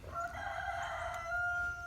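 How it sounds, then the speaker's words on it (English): A rooster crows once in a long, steady cock-a-doodle-doo near a barn where several hens are kept, the call loud and close and sustained for nearly two seconds. "there's the rooster"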